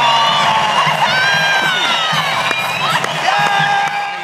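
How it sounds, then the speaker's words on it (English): Cheering crowd in a darkened cruise-ship theatre as a comedian walks onto the stage, a loud dense roar of shouts, whoops and whistles that holds steady throughout. "And the crowd goes mad"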